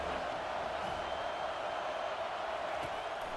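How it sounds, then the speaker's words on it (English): A stadium crowd at a Georgia versus Florida State college football game roars in a dense, sustained wall of cheering on third down, broad and steady throughout. "Decibels rising as the crowd gets behind this defense on 3rd down."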